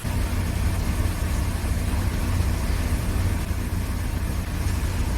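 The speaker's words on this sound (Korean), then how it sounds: "시동이 안 걸려 있는 것처럼 보이지만 시동은 걸려 있습니다" A car engine idles at close range, a steady low rumble with an even, continuous tone throughout and no voices.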